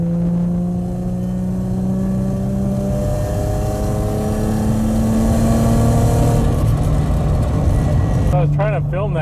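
An Infiniti G35 with a new exhaust accelerates hard through rising engine tones and gear changes, loud and sustained, then fades toward the end; speech is faint or absent.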